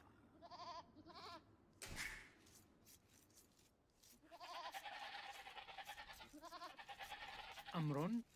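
Sheep bleat in the strategy game Age of Empires II, several separate nasal bleats spread across the stretch with a louder, wavering one near the end, set among game sound effects and a voice.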